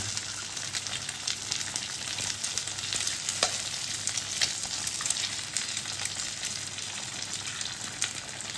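Eggs fry in a pan with a dense, steady sizzle and crackle that holds for several seconds, close and continuous with small pops throughout.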